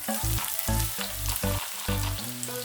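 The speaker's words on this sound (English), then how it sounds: "we are going to cook our onions golden brown." Onions fry in oil left over from browning beef for pilau, a steady close sizzle with bubbling crackle and a few stirring scrapes, with no talking.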